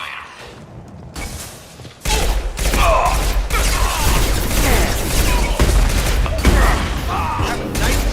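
In Mass Effect 2, a quiet lull gives way to sustained combat gunfire and impacts that stay loud and busy until the end.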